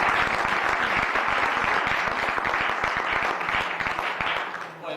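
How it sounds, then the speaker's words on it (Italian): A room of meeting attendees gives sustained applause for a speaker, dense steady clapping from start to finish that eases slightly at the end. "prima di tutto un grande applauso a Simone"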